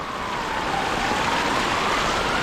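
Floodwater of a river swollen by a downpour in Krynica-Zdrój rushes in a steady, close broadband roar lasting a couple of seconds, with a faint tonal hum running beneath.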